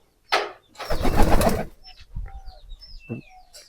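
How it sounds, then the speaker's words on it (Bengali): Close pigeon sounds in a pigeon farm, with a brief rustle of wings, a soft low coo and a few high chirps, in an otherwise quiet space. "উপরে দুইটা কবুতর বসে আছে, দেখেন।"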